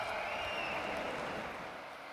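Applause from a Khelo India closing ceremony crowd welcoming Home Minister Amit Shah: dense, steady clapping that fills the space for the whole stretch and fades a little toward the end, with no voices over it.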